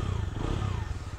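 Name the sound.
Bajaj Dominar motorcycle exhaust idling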